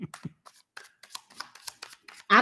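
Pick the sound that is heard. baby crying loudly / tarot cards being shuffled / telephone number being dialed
tarot cards being shuffled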